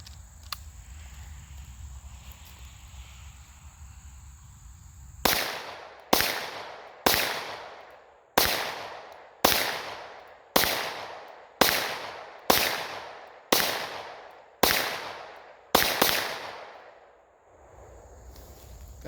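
Eleven sharp, loud pistol shots from 147 subsonic competition rounds, fired at a steady, evenly spaced pace after several seconds of quiet outdoor ambience, each crack decaying quickly.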